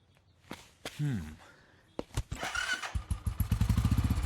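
A motorcycle engine starts up with sputtering bursts, then settles into a rapid, steady idle putter up close, with a brief voice early on.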